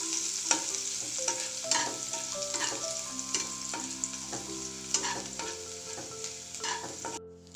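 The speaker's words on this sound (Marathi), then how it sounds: "याच्यामध्ये आपल्याला हा 2 चमचे ठेचलेला लसूण टाकून घ्यायचा। याला थोडंसं परतून घेऊ।" Two spoons of crushed garlic frying and being stirred in hot oil in a pan, a steady crackling sizzle with repeated spoon scrapes and clinks, close and clear with no voices.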